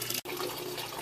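Water draining from the water lines of a Georgian Bay island cottage being closed for the season, a steady close rushing and trickling flow with one brief break near the start.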